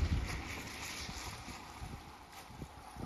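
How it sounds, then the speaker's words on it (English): Steady wind rushes across the microphone while choppy water slaps against a hull in irregular low thumps. "Water is choppy. The wind has picked up throughout the day."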